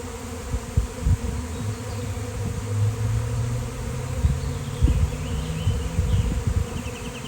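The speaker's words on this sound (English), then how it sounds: "That is thousands upon thousands of bees." A giant swarm of honey bees, thousands of them, buzzing all around and very close, a dense, steady hum with individual bees droning past, heard alone without talk.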